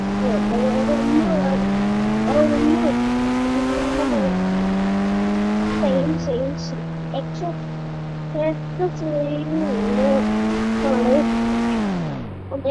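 A car's exhaust in an Indian driving video game revs and shifts through gears, its engine note climbing steadily then dropping at each change, loud and continuous with a few faint squeals, while someone talks over it.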